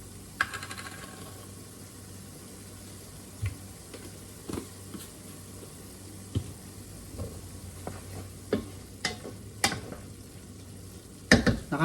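Pork igado sautéing in a pan, a soft steady sizzle under scattered clinks and taps of a utensil stirring against the pan, no voices.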